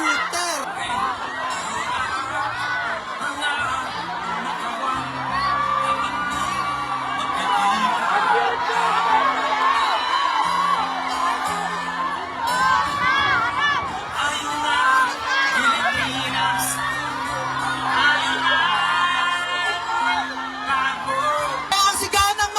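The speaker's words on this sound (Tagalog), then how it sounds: "Ang sigaw ng mamamayang Pilipino!" Filipino supporters at a grand prayer rally in the Netherlands shout and cheer in a dense, continuous roar, with whoops, whistles and rhythmic chanting surging up and down throughout.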